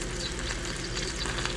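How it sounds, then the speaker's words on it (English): Food sizzles and spatters steadily in a hot pan, a dense, even crackle of frying filling the whole moment with no one talking. "that thing is still sizzling away like crazy"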